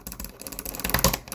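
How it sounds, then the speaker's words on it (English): A computer mouse is right-clicked in quick succession, producing a dense run of light, close plastic clicks with no talking. "now I'm right clicking"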